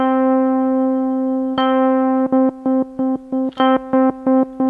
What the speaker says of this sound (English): Fade is just a fade in, so the LFO output effect will fade in and then it'll fade out.